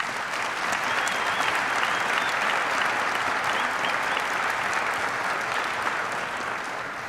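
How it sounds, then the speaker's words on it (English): Sustained applause from a seated audience at a military change of command ceremony at an Army health clinic, a steady, dense wash of many hands clapping at moderate distance with no talking. "Please give USACE a round of applause."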